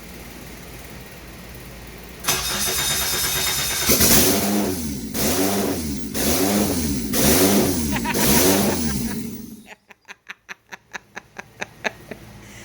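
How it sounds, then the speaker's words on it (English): A K-swapped Mitsubishi Starion cranks and fires up, then revs repeatedly in loud, rhythmic bursts before dropping back to a lumpy idle, close to the microphone with no talk over it. "we're gonna see Russell's reaction to the Starion firing up"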